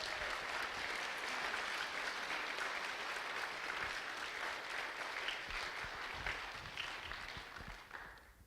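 Sustained applause fills the hall for youth helpers at a Vacation Bible School church gathering, a dense steady wash of many hands clapping that fades slightly at the end.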